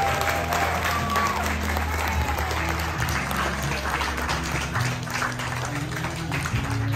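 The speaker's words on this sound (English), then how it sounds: "Please give them a round of applause." Wedding guests applaud the newly announced married couple, a sustained round of clapping that fills the room, with a low hum and murmuring voices underneath.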